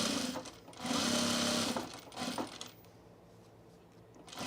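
A sewing machine stitches through the binding seam of a baby bag in close, loud bursts that stop and start, then fade to quiet handling noise, with no voices.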